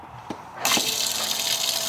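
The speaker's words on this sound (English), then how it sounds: "we're spraying water everywhere" After a quiet moment and a small knock, water suddenly bursts into a loud, steady spray that keeps hissing to the end.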